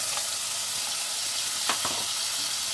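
Tomato drops into hot oil for a mustard-and-poppy-seed hilsa fish curry, giving a steady, loud, hissing sizzle throughout with a couple of brief bursts as pieces hit the pan.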